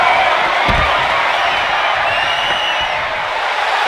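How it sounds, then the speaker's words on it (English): Wrestling arena crowd roaring and cheering for Roman Reigns during a World Heavyweight Championship match against Seth Rollins, a loud continuous wash of voices with a sharp thud early on. "Reigns drawing a big reaction from the crowd"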